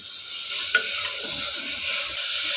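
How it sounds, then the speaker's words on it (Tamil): Tomato frying in a pan for a spinach rice dish gives a steady, close sizzle that fills the whole clip, with one brief clink of stirring early on and no voices. "ஒரு தக்காளி போட்டுக்கோங்க இது நல்லா வதங்கட்டும்"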